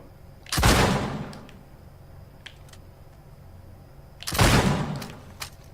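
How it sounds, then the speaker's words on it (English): Two loud, sharp flint pistol gunshots from the video game Uncharted 4, each a broadband blast with a short decaying tail, spaced about four seconds apart over quiet game ambience. "Let's check out the flint pistol."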